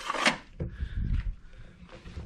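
A drawer full of old rear differential drain plugs in a garage workshop slides open or shut with a short, near wooden clunk and rattle, followed by low shuffling and handling noises.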